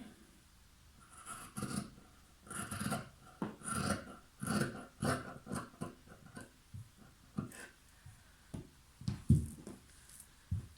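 Scissors cut knit fabric to shape a blouse neckline in a series of close, soft, uneven snips and rasps, quiet overall with short pauses between cuts.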